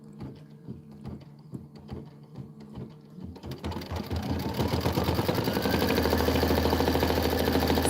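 A computerized embroidery sewing machine restarts and stitches a quilt block, its low rhythmic clatter building after a few seconds into a dense, steady whir of rapid needle strokes, close and continuous with no talking.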